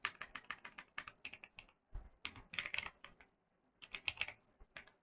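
Quiet, close computer keyboard typing in quick bursts of clicks with short pauses between, as a git push command is entered.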